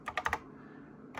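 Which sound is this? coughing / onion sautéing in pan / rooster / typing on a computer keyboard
typing on a computer keyboard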